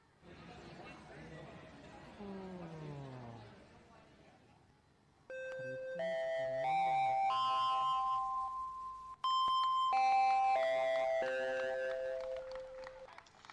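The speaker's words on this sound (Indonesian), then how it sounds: "bel tanda pergantian jam pelajaran telah berbunyi" An electronic school bell signals a change of lesson period, playing a clear multi-note chime melody in two loud bursts after a brief stretch of voice-like sound.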